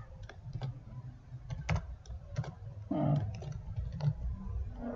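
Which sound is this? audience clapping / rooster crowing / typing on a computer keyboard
typing on a computer keyboard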